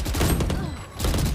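Rapid bursts of gunfire from a tactical shooter round after the spike is planted, dense clustered shots filling the clip with a short lull in the middle.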